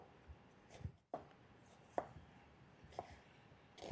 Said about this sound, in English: make just a couple other cuts here so that we can finish dicing this up